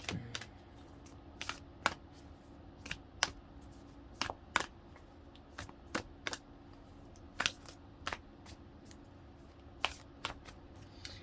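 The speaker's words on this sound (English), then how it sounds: "Spirit just told me to stop shuffling and cut and draw." Tarot cards are shuffled close by in short, crisp bursts of riffling and snapping, repeating irregularly over a quiet background with no talking.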